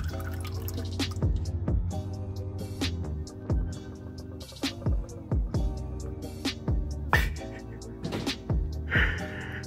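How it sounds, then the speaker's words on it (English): Engine oil drains from a 2010 Infiniti G37 into an oil pan, giving irregular close drips and splashing gurgles of liquid over a low mechanical background. "Make sure you have your oil pan right underneath it to catch all the oil."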